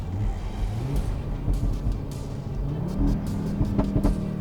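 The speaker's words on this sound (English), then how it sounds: "the power that you can get from this 5-cylinder and the sound is just so nice." A 2015 Audi RS3 Sportback (8V) five-cylinder engine growls through the optional performance exhaust, pitch rising and falling as it revs, with short sharp backfire crackles near the end.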